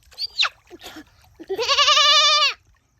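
A boy imitates a goat bleating with his voice: a loud, wavering, drawn-out bleat lasting about a second, preceded by a few short vocal sounds.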